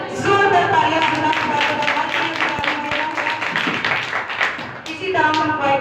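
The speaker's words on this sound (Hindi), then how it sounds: "जोरदार तालियां बजा" A church congregation claps loudly in quick, rhythmic unison at a Sunday meeting, sharp repeated hand strikes over sustained tones of music or voices that fade mid-clip and return near the end.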